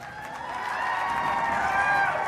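Crowd applause and cheering in a gymnasium after the Class D boys basketball state final, a steady wash of clapping that swells slightly and holds at moderate loudness.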